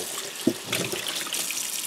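Tap water runs steadily into a sink as tie-dyed shoes are rinsed under it, a close, continuous splashing stream with a brief sharper splash early on and no talking.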